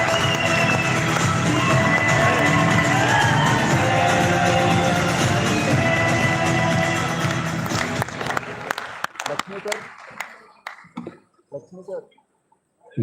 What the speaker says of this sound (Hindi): दोनों हाथ ऊपर उठाकर तालियां बजा करके बुलाइए